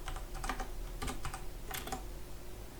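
Fast clusters of key clicks from a computer keyboard as C++ code is typed, close but low in level over a steady background hum, with no talking.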